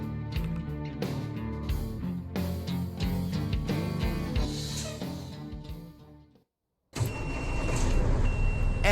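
Truck engine in American Truck Simulator running steadily while driving a truck fitted with an older Cat C15 engine, loud and continuous with harmonic drone, a brief dropout near the end before the rumble resumes.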